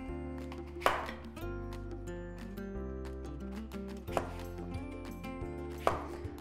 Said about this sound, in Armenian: և սկսում ենք մանր-մանր խորանարդիկների վերածել խնձորը։